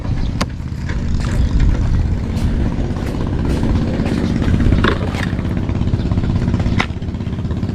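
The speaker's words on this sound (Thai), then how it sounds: "เสียงเรือนะครับที่ได้ยินอยู่" Boat engine running nearby on the water, a steady rough mechanical drone with rattling clatter and a few sharp knocks, continuous and fairly loud, with no talk.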